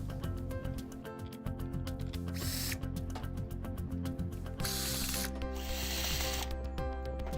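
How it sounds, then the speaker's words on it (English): Screws being tightened into the plastic housing of a Jabsco triplex pump: a close run of quick, dense clicks and ratcheting ticks, with short bursts of harsher hiss-like scraping in between, with no voices. "do a final tightening of the screws"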